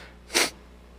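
A single sharp sneeze, close and brief, against a quiet background.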